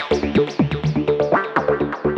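An Elektron Syntakt synth voice with its analog drive turned off plays a fast repeating pattern of short pitched notes with sweeping tones, loud and close, with no talking.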